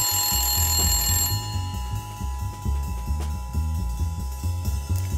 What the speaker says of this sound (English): the much-awaited ring of the phone.